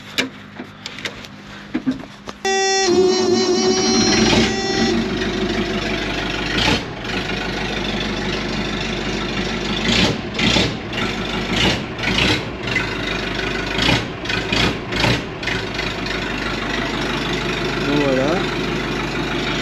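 An old backhoe tractor with a tall chimney exhaust cranks and catches at once, then settles into a steady, loud diesel idle that runs on with small bumps and rattles.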